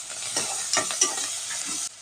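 Garlic, tomato and coriander fry in a pan for a mutton curry, giving a steady near sizzle with a few quick stirring scrapes over two seconds, and no voices.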